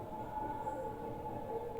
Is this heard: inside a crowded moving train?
yes